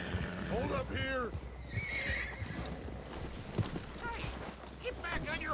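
A horse in Red Dead Redemption 2 whinnies loudly several times, with rising and falling neighs, over a bed of clip-clopping hooves and game ambience, while a voice speaks briefly in between.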